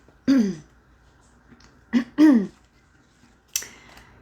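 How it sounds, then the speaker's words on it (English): A few short, close throat-clearing bursts, one, then two in quick succession, followed by a sharper fourth after a pause. "as I'm trying to clear my throat here"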